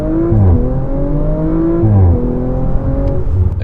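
A 2018 Audi RS5 with a V6 engine accelerates from a standstill, its loud, close engine note climbing through several rising gear pulls with brief dips at the shifts, and no talking over it.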